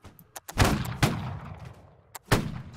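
Musket volley fire in Holdfast: Nations At War during a line-infantry event, several loud, sharp booming cracks fired in ragged succession with short echoing tails and quiet gaps between them.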